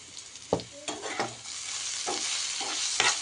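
Beans and turmeric frying in a pan, a bright continuous sizzle with several sharp spatula scrapes and taps, close by and with no talking.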